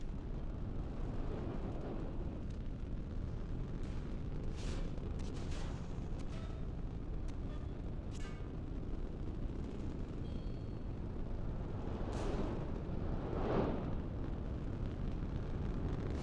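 Missiles strike and blow up against a rock in the space game Nebulous: Fleet Command, a low continuous rumble of distant blasts with several brighter sharp bursts scattered through, fairly quiet overall.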